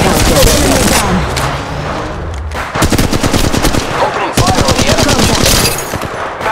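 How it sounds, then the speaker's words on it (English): Rapid automatic gunfire in the mobile battle royale Apex Legends Mobile, loud sustained bursts of closely spaced shots with a brief lull near the middle, then more bursts over busy game noise. "Opening fire on the enemy."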